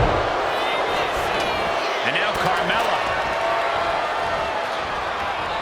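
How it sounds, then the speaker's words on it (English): Raucous arena crowd in the WWE 2K25 wrestling video game, a loud, dense, steady roar filling the whole stretch beneath an announcer's commentary. "What a raucous crowd here tonight."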